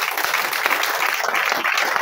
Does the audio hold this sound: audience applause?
yes